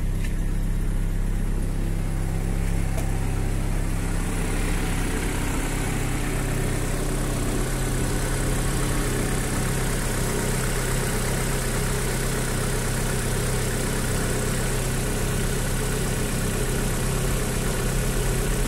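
A Chevrolet Blazer/S10 engine idles steadily and close, a smooth continuous hum with a low rhythmic throb, and a lower drone drops away after a few seconds.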